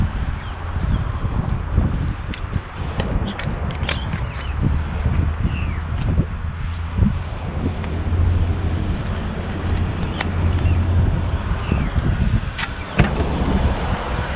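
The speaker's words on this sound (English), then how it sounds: "Windy today." Gusty wind blows over a bay, buffeting the microphone with a continuous low rumble and rustle that rises and falls without pause.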